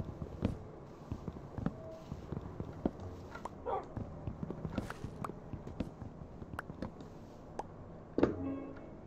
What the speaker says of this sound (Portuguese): Esse cachorro está me incomodando.